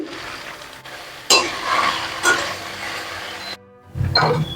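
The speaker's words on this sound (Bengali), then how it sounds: "এই সবজিগুলো কিছুক্ষণ ভাজার পরে আবার সব শেষে দিয়ে দেবো ক্যাপসিকাম আর কড়াইশুটি" Cauliflower, beans and flat beans with salt being stir-fried in a kadai for a mixed vegetable dish: a steady close sizzle with scraping stir strokes around 1.3 and 2.3 seconds, a brief lull near 3.7 seconds, then more stirring.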